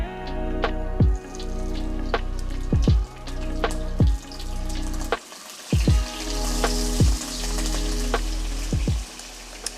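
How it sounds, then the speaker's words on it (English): Prawns grilling in hot oil in a wok give a steady close sizzle and crackle, broken by a few sharp pops and spatters throughout. "so my oil is hot. I'm going to grill my prawns."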